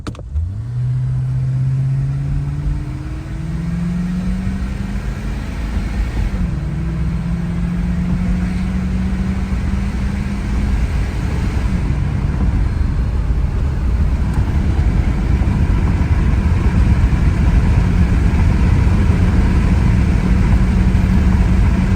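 A 1983 Ford Crown Victoria LTD engine revs up through several gears on a tar road, pitch rising and dropping with each shift, then settles into a steady loud drone with road noise.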